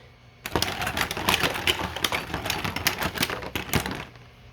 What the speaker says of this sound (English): that printer going in the background, it's something real special this time